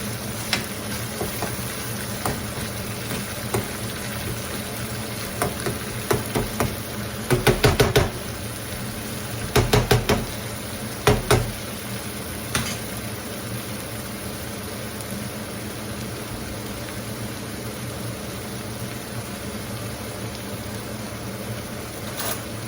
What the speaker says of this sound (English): just stir that, mix it all together